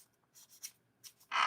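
Nail file filing fingernails around the sides, short soft scratchy strokes in quick bursts, close and quiet, ending with a louder rasping stroke.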